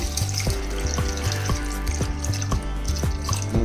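Water pours steadily into a pressure-cooker pot of goat tripe curry with chili powder and ginger-garlic paste, with a sloshing, bubbly splash and a faint rhythmic pulsing under it.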